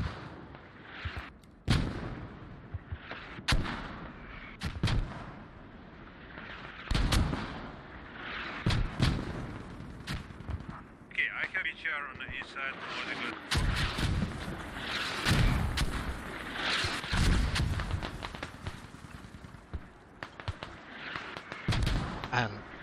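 Mortar rounds firing and impacting in a competitive Squad match on the Fools Road map, repeated heavy booms and thuds at irregular intervals, some near and loud, others distant, under steady commentator talk.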